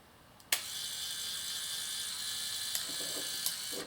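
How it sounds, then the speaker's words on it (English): A small motor in an M42-mount aperture-priority film camera whirs steadily for a few seconds after a sharp click as it sets the shutter speed, close and clear, with faint ticks along the way. "you heard the motor running a little bit"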